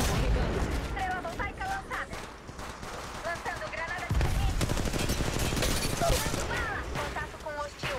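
Rapid bursts of gunfire crackle through an Apex Legends Mobile match, dense fusillades of shots near and far, with a player talking over the shooting.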